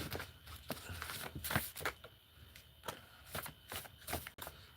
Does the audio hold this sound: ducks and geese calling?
no